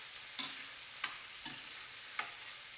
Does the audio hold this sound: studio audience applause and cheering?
no